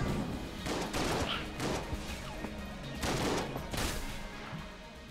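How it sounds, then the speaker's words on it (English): Bursts of rapid gunfire and bullet volleys from the video game Enter The Gungeon come in several dense clusters over steady game noise. "That was too many bullets."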